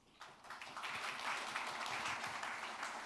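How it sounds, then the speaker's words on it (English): Audience applause at an Asian economic growth conference session, welcoming a speaker as he takes the microphone; steady, dense clapping that rises quickly and holds through the short clip, with no talk over it. "So ladies and gentlemen, please give him a big round of applause."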